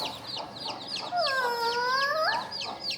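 Chickens on a Bangladeshi farm cluck nearby in short repeated notes, with one drawn-out, rising-and-falling call in the middle standing out clearly over the rest.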